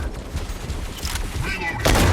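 Gunfire rattles in the Mech Arena robot combat game, a burst of rapid shots with a loud heavy blast at the end, while an in-game voice speaks.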